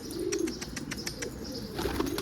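A pigeon arrives with a quick flurry of flapping wings, rapid soft beats close by, followed by faint cooing and chirps against quiet background noise.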